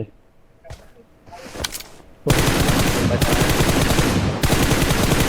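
Gunfire in a battle royale video game: a few quiet clicks and thumps, then loud, sustained automatic fire that rattles on without pause through the second half.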